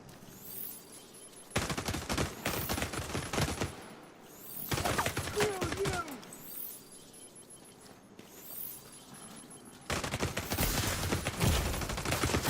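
Enemy gunfire in The Division 2 video game: sustained bursts of automatic fire in three long volleys separated by quieter gaps, dense and close, with no talking.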